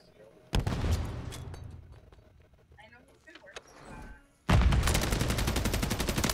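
Gunfire in Modern Warfare 3, a first loud burst of rapid automatic shots, a quieter stretch, then another sustained dense volley, close and loud, with voices talking excitedly.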